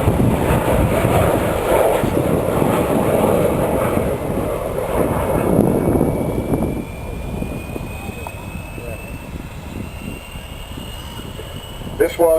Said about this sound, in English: Vulcan XH558. Coming back in towards us now, flown from the left-hand seat today by Kev Rumens.